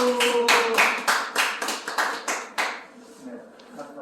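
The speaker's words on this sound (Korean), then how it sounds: "박수." A small audience claps in sharp, close, fairly regular beats for a few seconds, then the clapping tapers off and people start talking.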